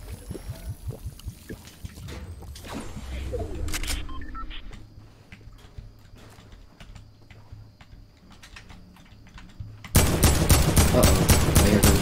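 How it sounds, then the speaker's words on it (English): Gunfire crackles in a Fortnite battle royale match, with scattered distant shots early on and a loud burst of rapid automatic fire at the end. "I hear gunshots"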